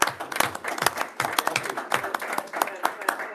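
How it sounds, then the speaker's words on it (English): A small group at a board meeting claps briefly, with scattered uneven handclaps and voices talking over it. "that deserves a round of applause"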